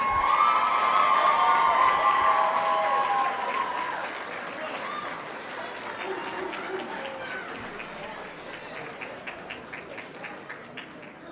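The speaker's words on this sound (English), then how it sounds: "give them a round of applause for all that they've done for you" A large crowd at a law school commencement applauds loudly with cheers and shouts, and the clapping gradually thins and softens as it continues.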